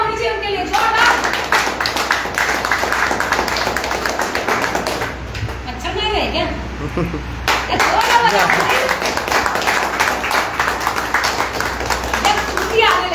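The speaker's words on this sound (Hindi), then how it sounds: "एक बार तालियां होनी चाहिए उनके लिए, जोरदार" A seminar audience clapping, dense sustained applause that pauses briefly midway and then resumes, with people talking over it.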